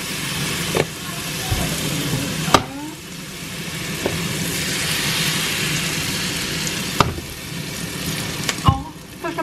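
Pancake batter sizzles in plenty of butter in a frying pan, a steady crackling hiss broken by a few sharp clinks and scrapes of a utensil against the pan.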